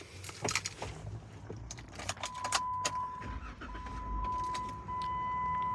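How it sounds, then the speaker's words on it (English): A 2017 Jeep Wrangler Unlimited Willys Wheeler is started with its key: keys jangle and click, then a low engine rumble rises and settles into a steady idle inside the cabin, accompanied by a faint chime tone. "We can go ahead and start the Jeep now."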